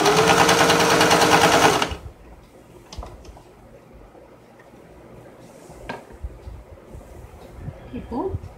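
A sewing machine stitches a blouse neck band in a fast, loud, even whir that runs for about two seconds, then stops, leaving quiet room sounds and faint clicks of handling fabric.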